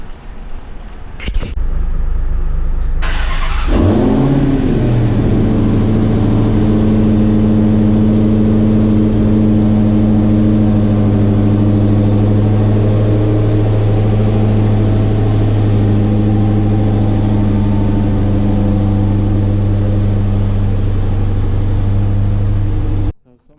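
A Dodge Challenger Hellcat Widebody fires up with a loud, sharp starter crank and roar, then settles into a deep, steady rumbling idle up close for a long stretch before cutting off.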